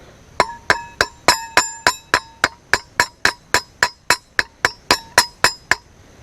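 A hammer tapping a front wheel bearing into a Raptor 660 hub: about twenty sharp, ringing metallic taps at a quick, even pace, close and loud with no talk.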